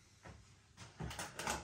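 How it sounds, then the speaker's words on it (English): Cardboard door being pried open on a beer advent calendar, a few short scraping and tearing bursts building toward the end, close and fairly quiet. "So let's get the first door open."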